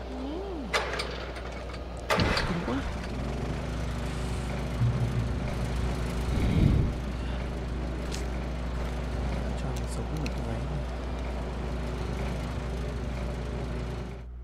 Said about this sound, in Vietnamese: cho cái máy nổ lên